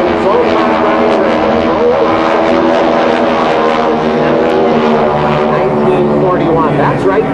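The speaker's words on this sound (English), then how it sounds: "We've souped our Stearmans up to fly air shows." Loud, continuous radial engine drone with propeller roar from Red Baron Stearman biplanes flying at the 2005 NAS Oceana air show. The sound stays steady and powerful throughout and seems close by.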